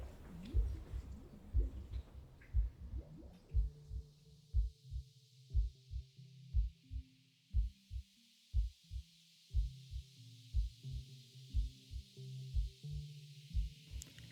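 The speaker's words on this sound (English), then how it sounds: "Now, bring your attention to the heartbeat of the people around you." Steady human heartbeat, each beat a paired low thump in an even rhythm, repeating over about fourteen seconds, close and clear with faint hiss behind.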